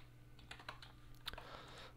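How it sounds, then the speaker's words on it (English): Computer keyboard key, the shift key, clicked a few times in quick succession, sharp close taps over a steady low hum with no talk. "If you can hear me clicking my shift key repeatedly."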